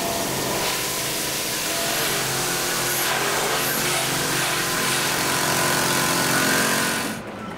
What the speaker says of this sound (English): I'm jog feeding here, pretty close to our standard Superfly recipe, 2500 RPM, around 20 inches a minute.